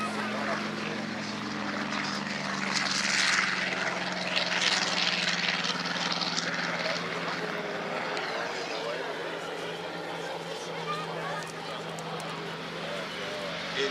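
A Fieseler Storch propeller aircraft flies at an air show, its steady engine drone rising and falling with the turns as an announcer talks over it.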